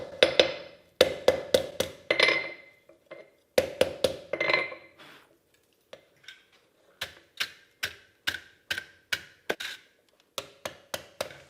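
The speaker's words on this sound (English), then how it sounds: "when the insert is hammered in, I get a nice and snug fit, as it will sort of wedge itself in there" Hammer blows drive a carbon steel insert into the split of a coal-forged iron seax blade, sharp metallic strikes in quick bursts with short pauses, then a steadier run of evenly spaced ringing hits, close and loud.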